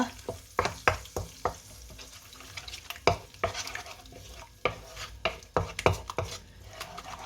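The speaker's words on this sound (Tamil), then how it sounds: "அப்படியே பொரிச்சு கொண்டிருக்கிறேன்" Idiyappam string-hopper noodles frying in oil, a spoon clattering against the pan in uneven sharp knocks over a low, steady sizzle, close by and without speech.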